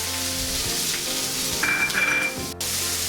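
Onions fry with curry leaves, garlic, mustard seeds and cumin in hot oil, giving a close, even sizzle with a brief scrape of stirring near the end and no talk.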